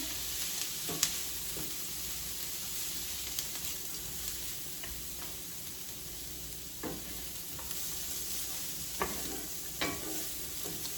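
Vegetables softening in a pan, stirred with a wooden spatula, give a quiet steady sizzle broken by several soft scraping strokes, with no talk.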